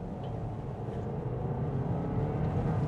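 A 2022 Kia Niro Hybrid base model accelerating in sport drive mode gives a steady low engine and road drone heard from inside the cabin, with no sharp revving.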